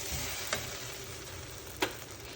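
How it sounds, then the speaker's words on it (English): Rice and lentils being sautéed for khichadi, a soft, faint, steady sizzle with two light clicks of a spoon against the pot. "My aim is to make the rice and the lentil saute."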